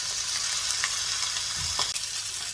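Salmon skin fries in a pan in its own fat, making a close, steady crackling sizzle throughout with a few brief stirring scrapes.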